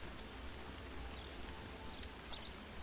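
Freezing Rain spell effect in the Age of the Ring strategy game mod: a steady, soft hiss of pattering rain that continues unchanged throughout, quiet and diffuse.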